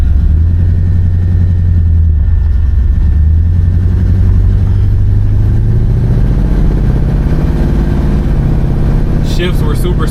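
A 1968 Chevy Impala engine pulls steadily under acceleration while driving, a loud, continuous low rumble that rises gradually in pitch, with a brief higher-pitched whine near the end.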